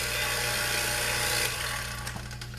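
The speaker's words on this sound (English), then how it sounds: "once that's shut, we can turn off our vacuum pump with no issues" A vacuum pump used for refrigerant recovery and evacuation with a gauge manifold whirs loudly and steadily, its broadband hum easing slightly toward the end as it begins to wind down.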